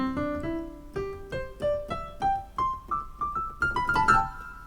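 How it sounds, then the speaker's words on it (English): A keyboard played with no sustain pedal, about a dozen separate notes stepping upward, each one dry and cut short with no ringing between them, close and unaccompanied. "Having a sustain pedal makes a world of a difference, because otherwise it's going to sound like this."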